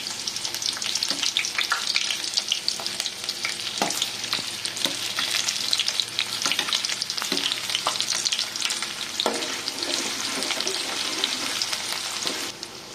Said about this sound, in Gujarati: ડુંગળી પહેલાં સાતળવાની છે.